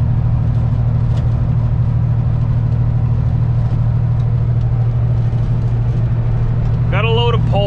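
A heavy truck loaded with poles rumbles down a highway, its deep steady engine drone and road noise filling the cab, with a voice speaking briefly near the end.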